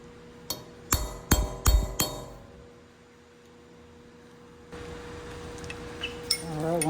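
Several sharp metallic strikes from a big mallet against a tool wedged at the timing chain cover of a 2017 Toyota Tacoma 2GR-FE engine, four or five quick close blows, then quiet workshop background with faint clinks.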